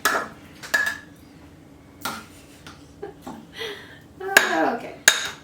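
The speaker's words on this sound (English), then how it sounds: "James is scooping the cup of pumpkin" Pumpkin scooped from a cup into a bowl, with scattered clinks and scrapes of utensil against dishware at irregular intervals, close by, and faint voices in the background.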